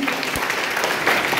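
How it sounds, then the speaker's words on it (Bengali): An audience claps briefly but with energy for a quiz-competition organiser, and the dense applause fills the short moment alone. "স্যারের জন্য একটা জোরে হাততালি।"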